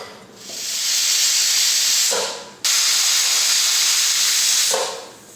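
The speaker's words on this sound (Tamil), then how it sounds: "குக்கர் மூடி விசில் போட்டாச்சு. 2 விசில் விட்டு ஆஃப் பண்ணிக்கலாம்." A home pressure cooker, steaming tomato rice on the stove, lets out two loud sustained whistles of escaping steam, each with a sharp start and a fading tail, separated by a brief break, with no talk.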